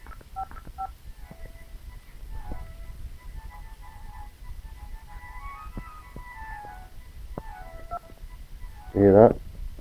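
Telephone keypad DTMF tones beep over a phone line in short separated bursts, faint and scattered under a quiet recorded voice, with a louder burst of tones near the end.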